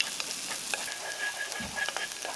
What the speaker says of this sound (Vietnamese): Cho vào nồi 1 muỗng canh dầu và mình cho khoảng 1 muỗng canh hành tím vào phi thơm.